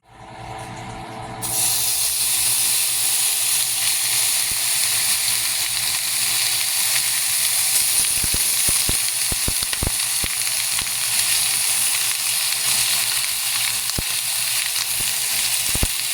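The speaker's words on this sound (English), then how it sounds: "let's fry some bacon" Bacon fries in a pan with a loud, steady sizzle that starts abruptly and continues throughout, scattered with sharp crackling pops of spattering fat.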